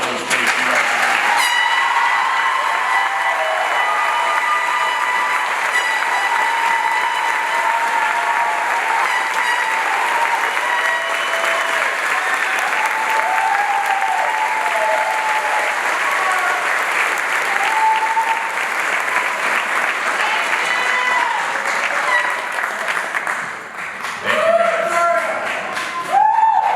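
A seated ceremony audience gives a long, full round of applause for Victoria and Chris, steady and close, with faint voices surfacing near the end.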